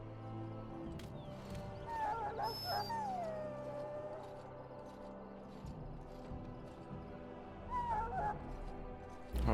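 A sick hound in the Dragon Age: Origins game, ill from swallowing darkspawn blood, lets out thin whimpers and a drawn-out whine over a low ambient hum, with another short whimper near the end.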